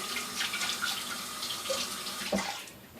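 Tap water running into a sink while a bird stand is rinsed off, a continuous splashing stream with small clatters and a brief knock near the end, close and moderately loud.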